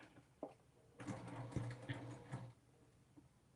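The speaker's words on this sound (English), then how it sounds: "And we're going to stitch this side down." A sewing machine stitches down the side of a fabric double pocket folder in a short, quiet whirring burst of about a second and a half, with faint handling taps before and after.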